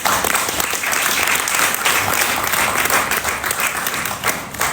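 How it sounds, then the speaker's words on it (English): Dense crowd applause for residents at a political housing meeting in Jamaica, loud and sustained with continuous overlapping clapping that holds a steady level throughout and fades slightly at the end, no voices audible. "They deserve a big round of applause."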